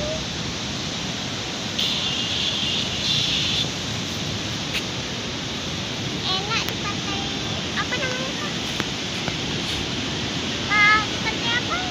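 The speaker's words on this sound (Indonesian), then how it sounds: "Ombaknya besar-besar sekali, Kak." Big ocean waves crash and roar at Pantai Penyu beach in Pariaman, a turtle conservation site. The surf is a continuous loud wash that fills the whole stretch, and faint voices come through now and then.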